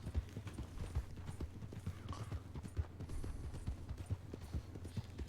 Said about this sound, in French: J'entends un cheval.